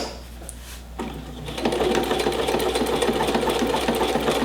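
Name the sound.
sewing machine stitching the end of a buttonhole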